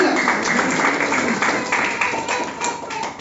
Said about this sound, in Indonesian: Ayo kasih tepuk tangan dulu buat Tuhan Yesus.